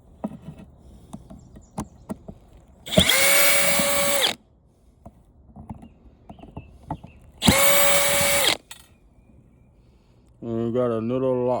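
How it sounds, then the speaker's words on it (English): Power drill backing out screws on a stand-up floor fan: two bursts of about a second and a half each, loud and close, then a third that begins near the end, with faint handling clatter between them. "Go ahead and undo the 4 screws here that's holding this on."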